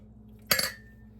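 A spoon clinks against a glass jar of meatloaf while levelling it, one short bright double tap with a brief ringing tail, close and fairly quiet.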